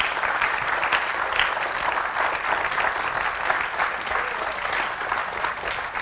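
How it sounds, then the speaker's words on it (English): A studio audience applauds a departing guest, steady dense clapping that holds at an even level from start to finish with no voices over it. "Give him a nice round of applause."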